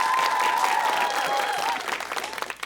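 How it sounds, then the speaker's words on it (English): Audience applause at a School Duel quiz competition between two schools, a dense wash of clapping with a sustained tone running beneath it, thinning out toward the end. "So big round of applause for that."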